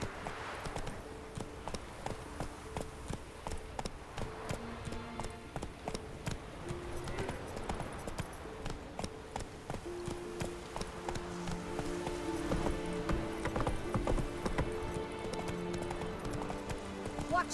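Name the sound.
horse Roach galloping in video game The Witcher 3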